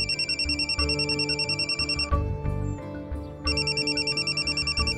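A mobile phone ringtone repeats in pulsing bursts, loud and close, with a short break in the middle before the ringing resumes.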